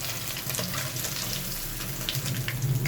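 Masala-coated finger fish fillets frying in oil, a steady moderate sizzle with a few small spits and a low rumble toward the end, close and without speech.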